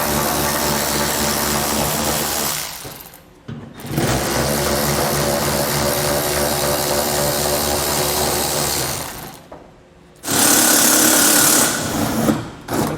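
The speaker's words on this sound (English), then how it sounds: "So grab our socket and get all these out." Power tool with a socket driving out 8mm head screws during a gooseneck hitch install on a 2012 Ram 2500, a loud continuous whirring that stops briefly twice before restarting.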